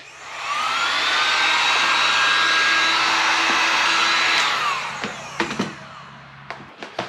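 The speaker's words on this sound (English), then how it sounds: "I'm just gonna simply take my heat gun and shrink it up" Heat gun blowing hot air onto a bubble in a vinyl speed sticker on a 2021 CFMOTO ZFORCE 950 Sport: a loud, steady whooshing roar for several seconds that cuts off, followed by a few sharp clicks and taps.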